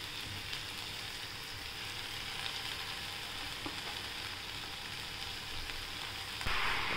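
Chopped cowpea leaves sautéing in a pan, a dense, even sizzle like light rain that holds steady throughout and swells slightly at the end, with only faint stirring.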